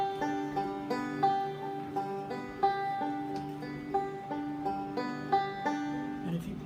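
Banjo playing an alternating-pattern roll with melody on the third string, a quick steady stream of bright plucked notes in repeating groups, close and alone.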